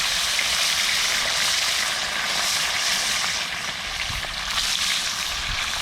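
Steady hiss and crackle of food frying in hot oil, loud and continuous throughout, with a slight dip in intensity midway.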